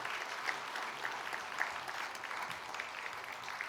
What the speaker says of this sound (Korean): 큰 박수로 축복해 주시기를 바랍니다